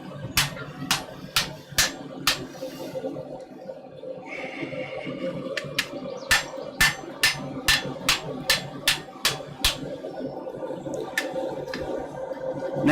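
A hammer forges metal on an anvil with sharp, ringing strikes in steady bursts, with a brief pause partway through before the blows resume in a quick rhythm, close and loud.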